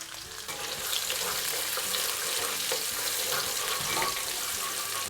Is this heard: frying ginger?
yes